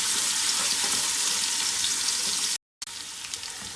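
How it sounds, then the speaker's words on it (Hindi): Garlic paste fries in a small amount of oil, giving a loud, steady sizzle and crackle that holds evenly, then cuts out briefly before resuming more faintly. "लहसुन का पेस्ट, इसको 1-2 मिनट के लिए करेंगे फ्राई।"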